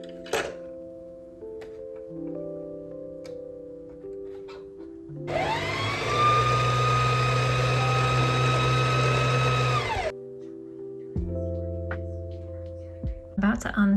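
A domestic sewing machine stitches a test swatch in dark thread, running as a steady, loud motor whir for about five seconds between quieter stretches with background music.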